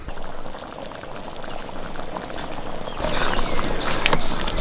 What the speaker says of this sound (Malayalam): അപ്പോൾ ഇത് നല്ലപോലെ ഒന്ന് തിളച്ച് വരട്ടെ